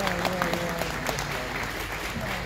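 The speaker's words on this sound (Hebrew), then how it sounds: "מגיע כפיים, כן, כי זה באמת ככה." An audience at a rabbinic conference gathering applauds, dense steady clapping for a couple of seconds with a voice speaking over it.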